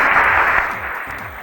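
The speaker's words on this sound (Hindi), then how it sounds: "बहुत सारी तालियां होनी चाहिए" Game-show audience applause, a dense steady wash of many hands clapping that holds loud and then eases slightly toward the end, with no voices over it.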